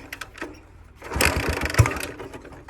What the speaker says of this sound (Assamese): এতিয়া ষ্টাৰ্টটো দি চাওঁ এক ঝাটকাত হয়নে নহয়।